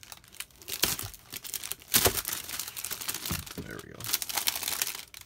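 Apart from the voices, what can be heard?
opening a cardboard figure box with reflective packaging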